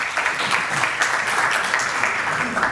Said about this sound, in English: Please, a large round of applause for Peter.